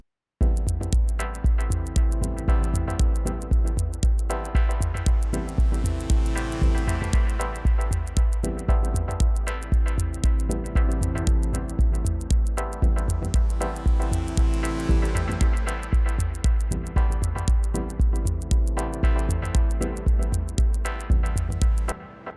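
Dub techno chords from a Waldorf Iridium synthesizer over a drum beat: a steady four-on-the-floor kick pulses under repeating washy chord stabs and ticking hats, loud and continuous without voices.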